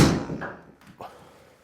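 A golf driver striking a ball on a home simulator gives one sharp, close thunk that fades quickly, followed by a softer secondary knock about a second later, with nothing else around it.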